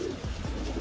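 A pigeon in the Capistrano area gives a short, low throaty coo, close and alone, lasting under a second.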